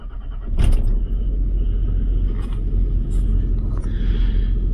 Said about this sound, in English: the first thing we're gonna do is a cold start on the vehicle